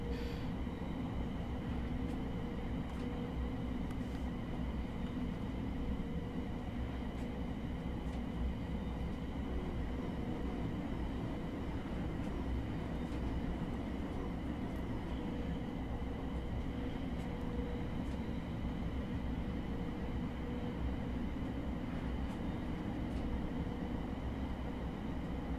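A Thameslink Class 700 electric train runs in Train Sim World 4 on the Brighton Main Line, giving a steady, continuous rumble of traction and rolling noise with faint periodic clicks across the whole stretch.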